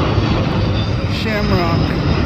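An Aer Lingus jet, flight Shamrock 134 Heavy from Dublin, touches down at LAX, a steady broad roar of engine and rushing air holding loud and even throughout, with a faint voice beneath it.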